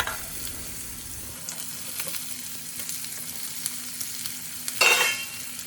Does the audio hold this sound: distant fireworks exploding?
no